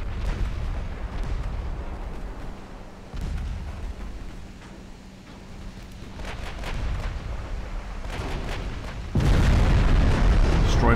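A warship's main gun fires in a naval battle game, heavy deep booms rolling under continuous low rumble, with a louder blast near the end.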